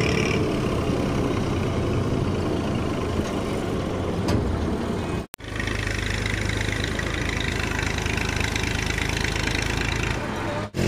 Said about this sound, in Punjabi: ਟਰੈਕਟਰ ਅਤੇ ਟਰੈਲੀ ਅੱਬੂ ਜੀ ਹੋਰ ਅੱਡੇ 'ਤੇ ਲਾ ਰਿਹਾ